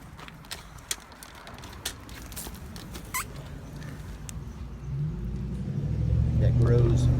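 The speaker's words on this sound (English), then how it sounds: "sorry about the noise, folks, traffic time" Road traffic beside a house, a vehicle rumble building from faint to loud over the last few seconds as a car approaches, following scattered clicks and mechanical ticks, with a person talking.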